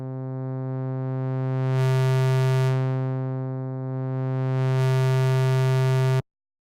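A Serum synth wavetable tone with warm, tube-like drive distortion that grows, a steady buzzy harmonic-rich note whose upper overtones swell, ease back and swell again before cutting off abruptly.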